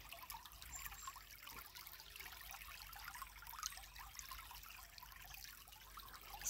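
A river flowing in a continuous soft, even trickle and rush of water, faint and steady from start to end, with no voices.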